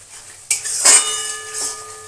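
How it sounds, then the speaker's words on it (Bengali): Masala sautéing in a pan while fish curry and brinjal for paturi are cooked, with a sharp metal clank of utensil on pan followed by scraping stirring and a light sizzle, close and alone. "এবার মশলাটা কষাচ্ছি"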